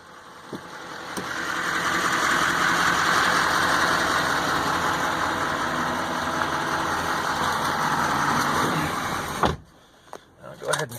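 A 2012 Chevy Silverado 3500HD 4x4 pickup with a Duramax engine, sold as repairable salvage, idles with a steady, close rumble for several seconds before it shuts off abruptly near the end.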